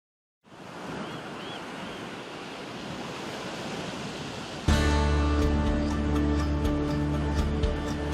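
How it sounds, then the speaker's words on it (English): Surf on the Oregon coast, a loud continuous wash of waves, with a sharper, brighter burst of rushing water about halfway through, under a faint background tone and no speech. "Is it the green and blue surf on a brilliant sunny day, or angry, boiling waves during a raging winter storm?"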